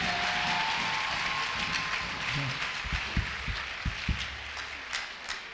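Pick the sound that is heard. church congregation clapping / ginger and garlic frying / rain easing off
church congregation clapping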